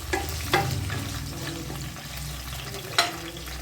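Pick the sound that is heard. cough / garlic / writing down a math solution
garlic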